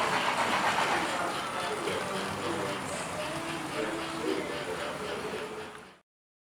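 An American Flyer S-gauge model train runs steadily along its track in a yard layout, a continuous close rolling rumble with faint clicking that lasts about six seconds and then cuts off abruptly.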